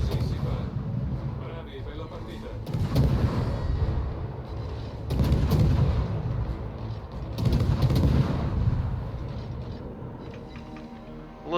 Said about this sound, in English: I am going to throw some shots at this Des Moines